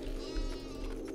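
A sheep in the video game SkySaga lets out a short, wavering bleat that fills the whole brief moment, close and fairly loud.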